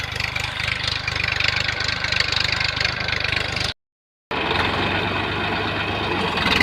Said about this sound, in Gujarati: તો ચાલો હું હાંકું છું હવે ટ્રેક્ટર